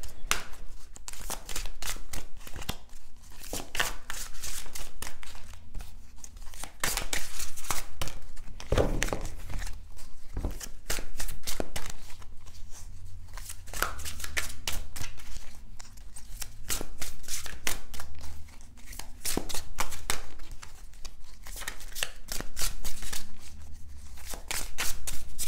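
Cards shuffled continuously for a card reading, a dense, steady riffling and crackling close up, with no voice heard.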